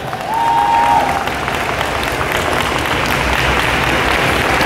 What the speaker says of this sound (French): Je vous demanderai d'applaudir Tony Sabin